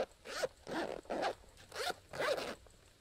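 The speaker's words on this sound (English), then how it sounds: "I'm not certain if they're YKK or not, but they're pretty good zips." Five quick zip pulls on a Savotta vertical pouch, each a short rasping zzzip spaced about half a second apart, close up and clear with no talking.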